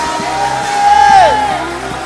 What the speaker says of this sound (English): Somebody clap your hands and shout with the voice of triumph